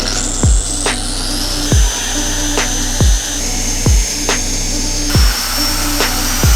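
A UDOS 51E polisher works heavy cut compound into the paint of a Porsche 996, a loud steady high whir with a low hum underneath, broken by a regular series of sharp knocking thumps about every three-quarters of a second.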